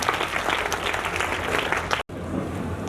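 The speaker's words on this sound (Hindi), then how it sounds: "ताली कमजोर हो रही है, आप लोग ध्यान नहीं दे रहे ताली बजाने के लिए।" An audience at a school prize ceremony claps steadily in a dense, sustained round of applause that cuts off abruptly, then resumes more faintly with scattered claps and room murmur.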